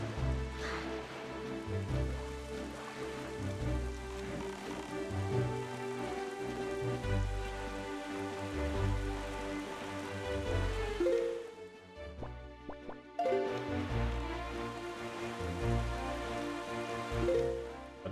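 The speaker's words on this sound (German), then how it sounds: "Regen gefällt mir schon mal gar nicht." Rain falling in The Legend of Zelda: The Wind Waker HD video game, a steady patter heard under layered in-game music that briefly drops away midway before swelling back.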